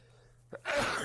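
A single sneeze sounds close to the microphone: a short breathy intake followed by a sharp, loud burst of air near the end, during a quiet moment of a live sports talk stream.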